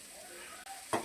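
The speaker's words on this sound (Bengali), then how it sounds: "আলুটা সেদ্ধ করে নিয়েছিলাম কুকারে, এখানে একটু ভেজে নিচ্ছি।" Boiled potatoes frying in a pan, a soft steady sizzle with a brief louder stir or scrape near the end.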